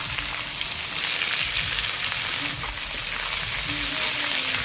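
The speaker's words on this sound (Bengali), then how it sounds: "এদিকে পেঁয়াজটা ভাজা হতে থাকুক" Finely chopped medium onion fries in hot oil for a chicken curry, a loud, close, continuous sizzle with faint stirring scrapes, and no talking over it.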